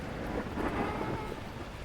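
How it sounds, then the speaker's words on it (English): Torrential rain with low rumbling thunder in the Beacon Pines video game, a dense steady downpour alone without voices. "At that moment, the heavens opened up, unleashing torrential rain."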